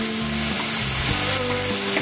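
Chicken fries with ginger-garlic paste in a hot pan, a loud, steady, crackling sizzle running unbroken for two seconds, with a low hum beneath and no voices.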